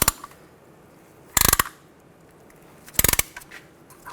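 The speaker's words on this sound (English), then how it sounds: "compress the caliper nice and slow, not too fast." A tool compresses the brake caliper piston on a 2007 Chevy Silverado 1500 Classic, giving two short bursts of close ratcheting clicks over a quiet background hum.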